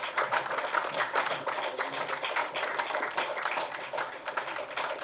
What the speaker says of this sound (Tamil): இன்னும் கரகோஷம் வேணும்.